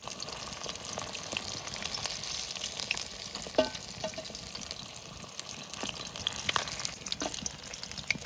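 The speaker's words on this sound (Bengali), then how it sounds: "মাছ সুন্দর করে ভেজে নিয়েছি এবার তুলে নেবো" Katla fish frying in oil in a pan at an outdoor field-side cooking spot, a steady bubbling sizzle with scattered pops and light scrapes of a spatula against the pan.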